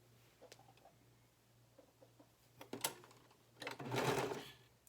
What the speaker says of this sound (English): We're going to pull while we're sewing.